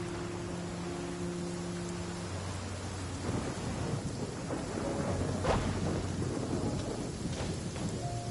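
A thunderstorm in the Genshin Impact video game: steady rain pours on surfaces while a low rolling rumble of thunder builds, with a sharp crack near the middle, all unbroken and fairly loud.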